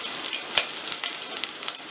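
Cumin, crushed garlic and ginger sizzle and spit in hot oil, a close, bright frying crackle with scattered sharp pops and no voices.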